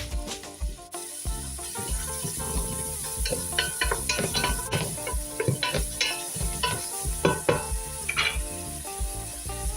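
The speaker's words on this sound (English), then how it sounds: "Add the carrots, celery and onion to the pot and allow to cook for 5 minutes, stirring occasionally" Carrots, celery and onion cook in a soup pot with a steady sizzle, punctuated by scraping stirs at an even pace, close and fairly loud, with musical tones running underneath.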